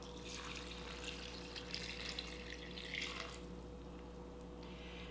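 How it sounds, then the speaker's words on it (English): Veggie broth and water are poured into a pot of white bean chili, making a quiet, steady splashing pour for a few seconds before it tapers off. "Now we're going to add 4 cups of liquid."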